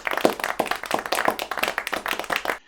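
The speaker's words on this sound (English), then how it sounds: "You'll just get the odd round of applause." A short burst of applause from a small group, rapid uneven hand claps, fairly close and clear, ending abruptly.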